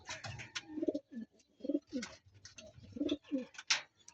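A pigeon coos close by, repeating low throaty warbling calls in short bursts with brief pauses between them.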